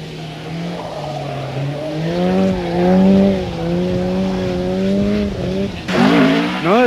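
A 1987 rally car pulls away onto a special stage at a racetrack, engine revving loud and close through rising gear changes, then a sharp burst of acceleration near the end.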